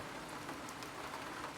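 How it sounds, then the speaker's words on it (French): Heavy rain setting in during a moderate-to-strong thunderstorm, a steady close hiss of drops pattering on surfaces, fairly quiet and unbroken, without talk. "il commence vraiment à pleuvoir à fond."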